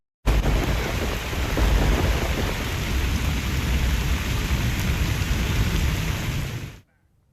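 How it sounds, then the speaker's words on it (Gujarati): Heavy monsoon rain pouring down in Bodeli, Gujarat, a dense, loud, continuous roar that starts abruptly and runs steady for several seconds before cutting off. "બોડેલીમાં પણ વરસાદે બગડાટી બોલાવી"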